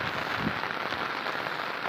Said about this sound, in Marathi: काय इकडं पाऊस किती आमच्याकडं.